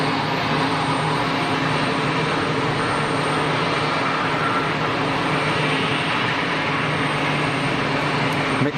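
Aircraft engines at Geneva Airport, with EasyJet and BA jets taxiing, make a steady, loud broadband roar and rumble throughout, blended with heavy surrounding background noise that partly masks the planes.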